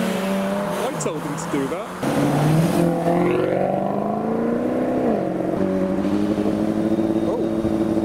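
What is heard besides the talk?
performance car tire skid leaving car show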